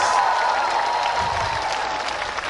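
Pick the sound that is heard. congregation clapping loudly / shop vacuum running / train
congregation clapping loudly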